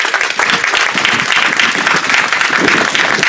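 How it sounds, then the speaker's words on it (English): Loud, dense audience applause honors the Snapka family at a historical marker dedication, a steady wash of many hands clapping close by for several seconds with no talk over it. "So let's give them a huge round of applause."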